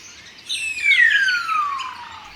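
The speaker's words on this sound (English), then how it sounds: "This morning I heard an unusual bird call." A single bird call, a clear descending whistle that slides smoothly downward over about a second and a half, close and alone against a quiet background.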